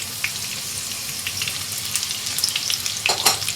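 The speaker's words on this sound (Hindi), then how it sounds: "वॉक ऑलरेडी गर्म है। साथ ही इसमें आप जो आपके गार्लिक है इसे ऐड कर लें, ग्रीन चिलीज डाल लें" Garlic and green chilies crackle and sizzle in hot oil in a wok, a steady close frying hiss with a few sharper pops toward the end, no voices.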